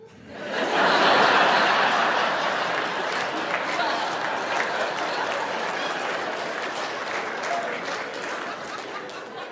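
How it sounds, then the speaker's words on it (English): Comedy club audience bursting into applause with scattered chuckles, loud crowd clapping that swells quickly and then slowly tapers over several seconds. "I still appreciate the earlier applause"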